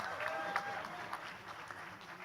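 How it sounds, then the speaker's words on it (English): Audience at a quiz event clapping together, a steady spread of applause from a moderately distant crowd that holds at even loudness throughout the short stretch. "A round of applause for yourselves for being a lovely,"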